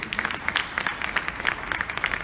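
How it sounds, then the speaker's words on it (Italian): Scattered hand clapping from a small group at the close of a winter football camp, uneven and moderately near, without a building roar. "Vorrei ringraziare e fare un grosso applauso a tutti i ragazzi"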